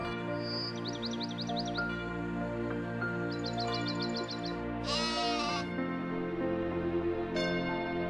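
Sheep bleating in open pasture at night near their shepherds, several wavering calls repeating one after another over a steady backdrop, fairly close and clear.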